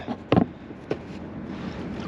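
A kayak paddle dips and pulls through drifting current near an abandoned sailboat, two or three soft splashing strokes close by over a quiet watery background, with no talk.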